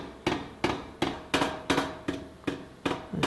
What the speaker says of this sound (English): I'm doing this under the power hammer with the swage that I made specifically for this